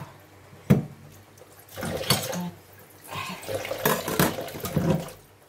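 Fish is washed under a running kitchen tap, with bursts of splashing water and rinsing broken by short pauses, close and moderately loud.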